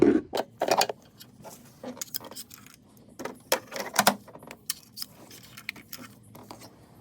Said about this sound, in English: Once they're loose, I go ahead and use a magnet to go ahead and pull the spark plugs out.